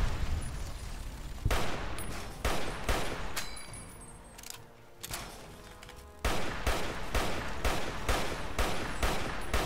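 Rapid gunfire in Fallout: New Vegas pounds out in loud, evenly spaced shots, pauses briefly as the noise thins, then resumes in a steady volley of heavy reports.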